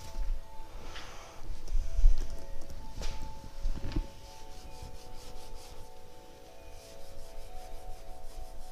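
Rough rubbing and scrubbing over an oil stain on a painted garage floor comes in uneven strokes at close range. A steady faint hum runs underneath.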